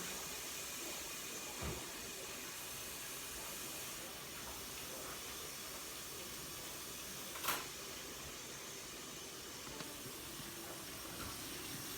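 Steam hisses steadily and softly from a pot of beef liver and brown gravy, a continuous quiet rush with a couple of faint clicks.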